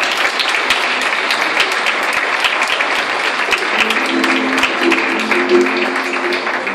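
An audience at a 2018 solidarity choir gathering gives sustained applause in a hall: dense, steady clapping from many hands that carries through the whole stretch, with a low tonal hum entering partway through.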